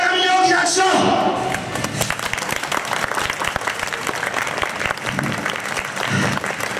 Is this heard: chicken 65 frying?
no